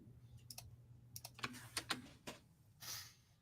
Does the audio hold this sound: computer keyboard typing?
yes